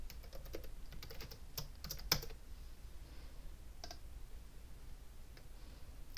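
Keys tapped on a computer keyboard while entering a password, a quiet, irregular run of light clicks with a sharper tap near the middle, then a few sparse keystrokes over low room hum.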